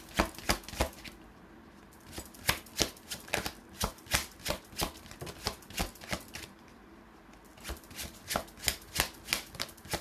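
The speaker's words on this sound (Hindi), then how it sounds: "ये शफलिंग के वक्त थोड़े मेरे ब्रेसलेट हिलते हैं" Tarot cards are shuffled in quick, rhythmic bursts of sharp riffling clicks, pausing briefly mid-way, with bracelets on the shuffling wrist adding light metallic jingles close up.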